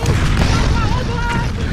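Cannon fire from a war film's artillery barrage rumbles in heavy, loud booms with crackling bursts, partly under a narrating voice.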